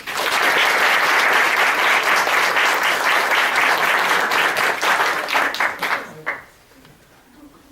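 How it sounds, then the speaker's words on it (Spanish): Audience applause at an interschool debate tournament, a loud sustained burst of many hands clapping that thins out and fades to near quiet near the end. "Pido por favor para ellos un aplauso."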